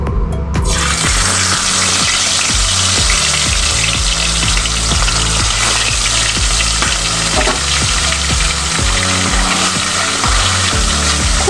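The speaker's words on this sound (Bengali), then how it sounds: "এবার আমি একটা একটা করে মাছ ভেজে নেব।" Pomfret fish frying in hot mustard oil in a wok give a loud, steady sizzle with a dense crackle that runs the whole time. Occasional stirring scrapes sit under it, and no one speaks.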